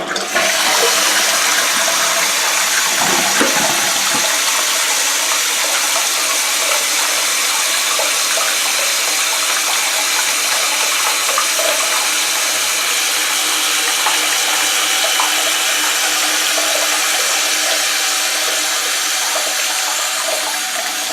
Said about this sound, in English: And with me, when I flush it,